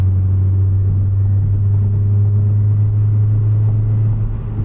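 Low, steady exhaust drone from an 8th-generation Honda Civic Si with a K-series engine and a 3-inch full race catback, cruising at a constant pace. The even hum holds unchanged throughout with no talking.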